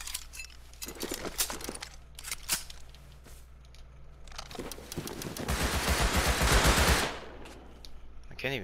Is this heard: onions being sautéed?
no